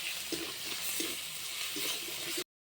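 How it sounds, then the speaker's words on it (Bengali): Spice paste of chilli, coriander and cumin powders fries in a pan for a lentil and vegetable dish, giving a steady, soft sizzle up close with faint stirring, then stopping abruptly. "ভালোভাবে মশলাটা কষিয়ে নিতে হবে ধনে গুঁড়ো"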